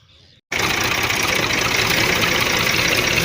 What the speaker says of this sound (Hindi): सुबह सुबह ट्रैक्टर स्टार्ट करते हैं।